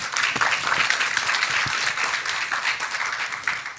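An audience at an honours symposium applauds the panelists, a sustained, fairly loud wash of many hands clapping that holds steady and begins to thin toward the end.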